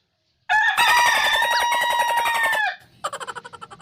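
A rooster crows loudly and close by in one long call, followed by a string of rapid clucks in a small room.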